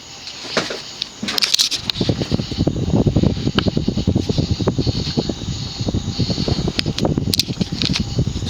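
A Codep View Fan 52-inch spinner ceiling fan with a large motor runs steadily, giving a continuous airy whoosh with soft ticking and patter, fairly close and alone.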